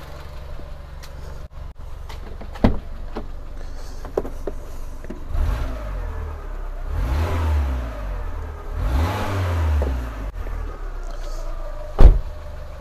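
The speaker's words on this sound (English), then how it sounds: "Let's give it a few revs." A Fiat 500 engine revved in a series of swelling blips, rising and falling several times, with a few sharp clicks and knocks from the car around them and no talk.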